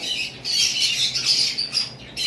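Fischer's lovebirds, a green pair with chicks, and a single masked lovebird male squawk in a dense, continuous shrill chatter, loud and close throughout with no talking.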